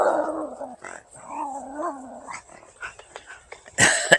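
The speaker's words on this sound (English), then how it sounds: "Oh, that little doggy's over there." A small dog at a distance growls and gives a few short barks and yips outdoors on a walk, with light wind, ending in a sharper burst of barking near the end.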